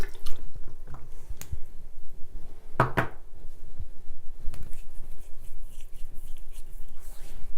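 Water splashed and rubbed onto a forearm to wash off eyeshadow swatches, soft wet dripping and patting sounds with a brief louder splash, close and fairly quiet.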